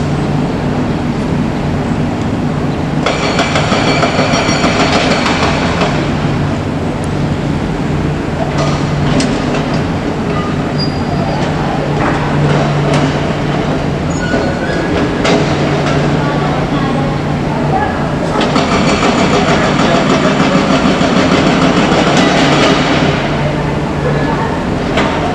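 A Whoosh high-speed train runs with a steady rolling rumble and occasional clicks from the rails, heard from inside, with loud stretches of whooshing rush.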